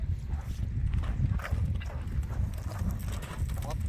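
A horse moves and plays on the ground, its hooves clopping irregularly amid steady outdoor rumble and close handling noise, with no clear talking over it.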